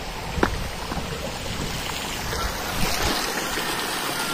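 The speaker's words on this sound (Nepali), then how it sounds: "झर्ना" A waterfall pours in a steady broadband rush heard nearby, with a few brief splashes and knocks over the constant flow and no voices.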